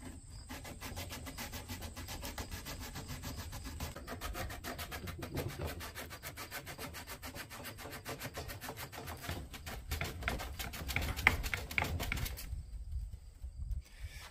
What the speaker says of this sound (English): I'm going to go ahead and wrap this in paper.